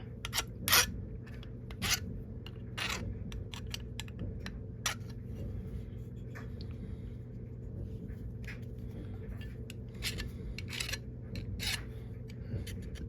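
A small hand file rasps at burrs on a Lee 356-147 TC bullet mold in short, sharp scraping strokes, irregular and close, over a low steady background hum.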